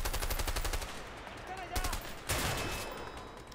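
Rapid pellet gun shots in the video game A Way Out, a fast rattling burst of repeated pops for the first second, then scattered single shots with a louder crack near the end.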